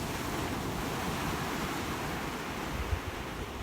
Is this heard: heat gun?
no